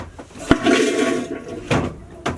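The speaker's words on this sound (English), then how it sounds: "all we need to do is flush again. It'll make the whooshing noise" A VacuFlush RV toilet flushes with a sharp click followed by a rushing whoosh of air and water, then further clunks as the mechanism resets.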